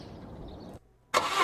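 A car engine turns over and catches in This Is The Police, following a short silent gap after some muffled ambience; the start is a sudden loud, bright burst that holds steady to the end.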